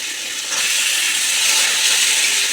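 Bone-in chicken pieces hit a hot pan with butter, cardamom, cinnamon and cloves, setting off a loud, steady sizzle that rises sharply after a moment and holds without talk.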